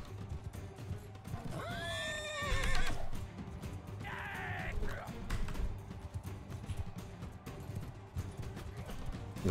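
Horses neigh twice in a Mount & Blade II: Bannerlord battle, shrill whinnies rising over a busy din of hooves and clashing combat noise.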